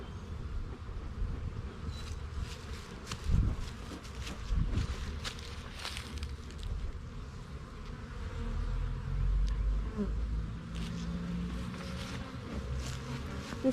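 Honeybees hum and buzz around an open hive during a spring inspection while a smoker is used on them. The steady swarm drone comes with occasional close passes and soft handling knocks.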